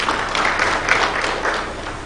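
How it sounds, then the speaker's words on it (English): Applause from an audience at a higher-education panel discussion, steady dense clapping filling the short stretch with no pause. "Let's have a round of applause for Dr. Riech"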